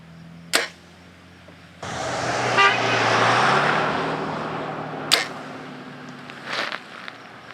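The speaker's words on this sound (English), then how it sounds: "Somebody honked at full draw." A car horn sounds along a roadside during an archery session with fixed broadheads, a sustained honk of about two seconds under passing traffic, framed by sharp snaps of arrows released from a bow before and after.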